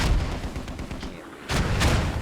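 Mortar fire in a video game match: a steady wash of distant booms and gunfire, with a louder blast near the midpoint and another shortly after, continuous battlefield rumble throughout.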